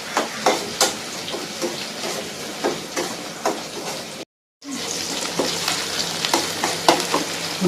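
Small shallots sizzle and crackle steadily in hot oil in a pan for spicy egg pulao, with scattered stirring clicks, a brief silent break midway, then the frying resumes close and loud.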